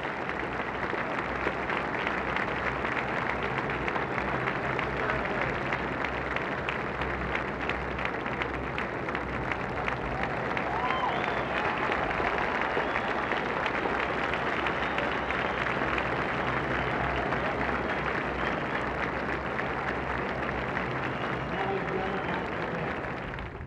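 A stadium crowd of 21,000 at the National Tennis Center applauds Steffi Graf's Grand Slam win at the US Open, sustained dense clapping and cheering that stays loud and continuous throughout without letting up.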